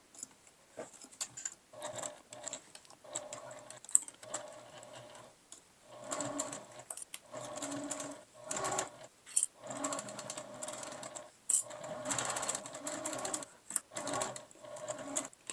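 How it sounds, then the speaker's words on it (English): A sewing machine stitches a clear vinyl pouch a quarter inch from the edge, running in short bursts of rapid mechanical clatter with brief pauses between them as it works slowly around a corner. "Taking a few stitches at a time, going around the corner and going slowly."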